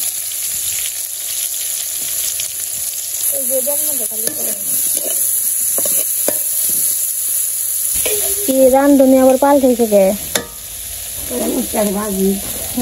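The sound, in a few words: eggplant slices frying in hot oil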